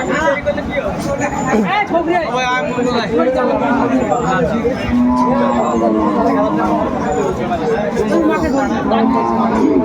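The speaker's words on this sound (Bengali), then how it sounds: "বেশ সুন্দর গাভী বাছুর আমরা দেখছিলাম" Cows and calves at a busy rural cattle market moo repeatedly at close range, their calls rising over a constant hubbub of people chatting and bargaining.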